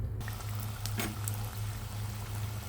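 Egg puff pieces frying in oil in a pan, a soft continuous sizzle with a low steady hum underneath and a few brief crackles, no voices.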